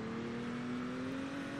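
A car engine drones steadily in Roblox Emergency Response roleplay, a smooth sustained hum with a faint whir, close and even in level and alone without talk.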